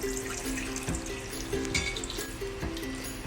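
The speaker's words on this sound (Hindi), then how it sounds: "अभी इसमें हम पानी डालेंगे" Water splashing and pouring into a pan holding potatoes, a continuous close-up trickle with small clinks and gurgles, no talking.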